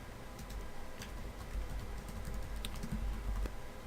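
Keystrokes on a computer keyboard while a Modbus ID is entered for a serially connected power meter in meter-setup software, a steady run of close, quiet clicks over low background hum.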